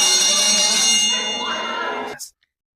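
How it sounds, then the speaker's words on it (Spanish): A school bell rings loudly and steadily with a bright, sustained metallic tone, then cuts off abruptly into silence. "esperando por fin oír las campanas"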